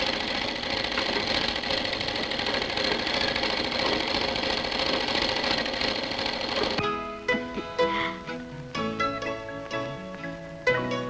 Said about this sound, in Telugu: నేనైనా మీనాకి ఒక గౌన్ ఇద్దామని కుడుతున్నాను